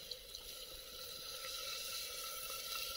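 A little water is poured from close by into chicken masala cooking in a clay pot, a soft, steady trickle lasting a few seconds and fairly faint.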